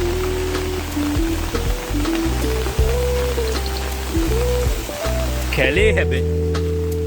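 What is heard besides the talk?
rain falling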